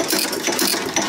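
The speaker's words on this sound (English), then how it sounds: "every time that thing comes around, it's hitting and firing" An old engine running and firing as it turns over, a dense rapid mechanical chatter with steady pulsing, loud and close with no talk.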